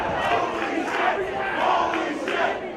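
A lucha wrestling crowd at the Rex Theater chants loudly and in rhythm during a Templario vs Soberano Jr. match. Roaring, pulsing shouts repeat roughly every half second or so, with no talk over them.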